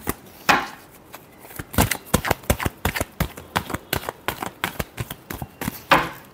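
A tarot deck being shuffled by hand: a run of crisp, fairly even card clicks and slaps, close and clear, with a couple of louder riffles at the start and end.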